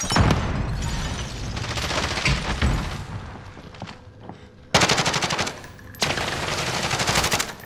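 Bursts of automatic gunfire from a Call of Duty Modern Warfare match rattle steadily, dropping away briefly before two sharp loud volleys break in near the end.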